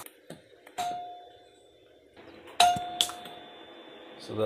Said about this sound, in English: So that's the doorbell she's so excited about.